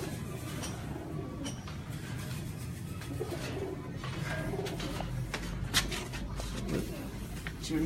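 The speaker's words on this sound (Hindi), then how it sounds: "उस्ताद जमील दे कबूतर है" Pigeons belonging to Ustad Jameel Butt of Sialkot coo on a rooftop loft. Soft, steady cooing runs through the whole stretch amid a busy outdoor din, with a few sharp clicks and flutters.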